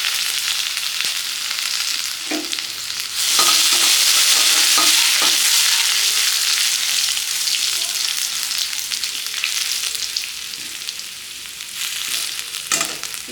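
Ginger and radhuni seeds fry in hot oil for a Chaitra Sankranti home meal, giving a steady close sizzle that swells louder after a few seconds, with light stirring clinks scattered throughout.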